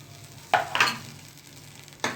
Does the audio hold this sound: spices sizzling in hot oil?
yes